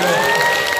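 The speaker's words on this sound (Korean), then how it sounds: "이런 공약을 하면 이렇게 박수가 나오잖아요" A studio audience breaks into brief, dense applause with a touch of cheering, loud and close, a short burst of clapping heard on its own.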